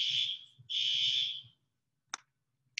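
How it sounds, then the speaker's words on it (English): A fire alarm in a lecture hall sounds two loud, shrill electronic blasts, then cuts out, leaving near silence broken by a couple of brief clicks. "Fire alarms probably be going off quite a few times"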